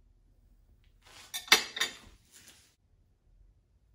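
A knife cuts through a homemade sponge cake on a plate, a brief burst of scraping with a couple of sharp clinks against the plate, close and isolated amid near silence.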